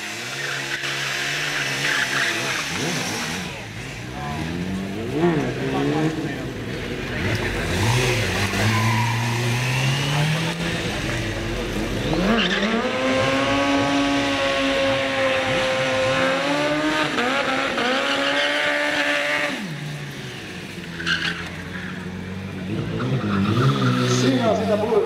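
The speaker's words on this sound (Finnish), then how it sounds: "Siinä on sitä burninkia, siinä on ääntä ja siinä on tuoksua." A car does a burnout at a Bomber Show car event in Kajaani. The engine revs hard in repeated rising and falling surges while the tires squeal steadily throughout, loud and close, with voices in the background.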